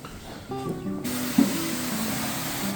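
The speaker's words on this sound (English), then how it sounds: "we use avocado oil and we spray it" Avocado oil sprayed onto smoker racks before smoking salmon: a steady aerosol hiss that begins suddenly and continues close-up over a low background hum.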